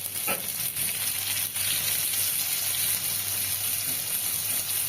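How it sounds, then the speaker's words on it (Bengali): Chopped onion dropped into hot oil in a kadai already spiced with cumin and bay leaf, giving a steady loud sizzle with a brief crackle near the start, close by and alone without talk. "এবার ওই যে কুচনো পেঁয়াজটা তেলের ওপরে দিয়ে দিলাম"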